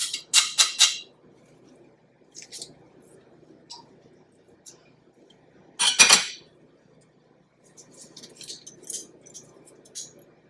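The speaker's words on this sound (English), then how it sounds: "So what I'm going to do is give that a press" A garlic clove is crushed in a hand garlic press while wing sauce ingredients are prepped, giving a few sharp metallic clicks and squeaks at the start and a louder squeeze near the middle, with soft handling noises between.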